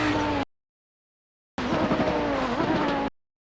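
Audi 90 GTO race car braking hard and downshifting to third gear at Road America, engine note dropping in two loud bursts separated by a gap of silence.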